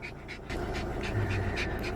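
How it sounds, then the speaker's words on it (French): A small, happy dog pants close by in quick, even bursts of breath that repeat steadily throughout, with no talking over it. "Oh, qu'il est content, le petit chien!"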